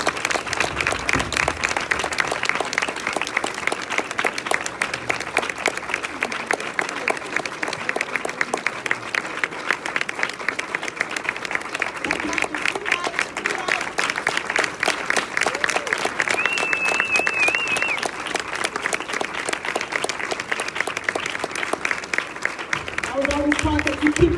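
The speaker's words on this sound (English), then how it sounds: "We keep our clap going into our honorary gift to this stage." An audience at a Women Making Waves event claps steadily in sustained, dense applause. Voices can be heard beneath the clapping, which stays loud and even all the way through.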